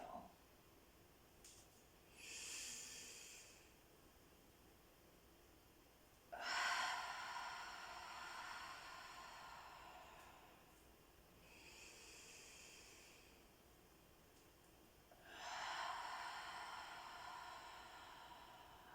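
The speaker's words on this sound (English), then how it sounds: "Inhaling up, feel that stretch." Slow, audible breaths during a seated chair yoga stretch: two long airy inhales and exhales alternate in an even rhythm, close and soft, with quiet pauses between.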